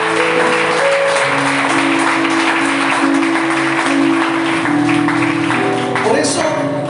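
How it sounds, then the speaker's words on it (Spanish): Loud, continuous applause from a church congregation fills the space, blending with sustained musical tones throughout. "¿Por qué no le dan un aplauso a nuestro Dios por eso?"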